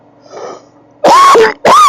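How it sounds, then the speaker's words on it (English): A harsh, close cough comes in two loud bursts, each with a raspy throat-clearing quality, after a quiet moment of low background noise. "Been plagued by this cough."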